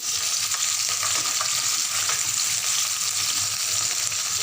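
Vegetables cook in a pan with added water, giving a dense, even bubbling sizzle that stays loud and close throughout, with no talking.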